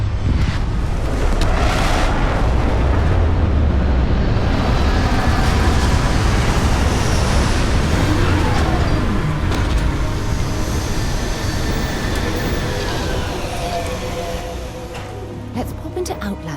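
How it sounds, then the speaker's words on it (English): A spaceship landing in Starfield, a loud sustained roaring rumble of engines and rushing air that holds steady and then eases slightly toward the end. "Beginning landing cycle."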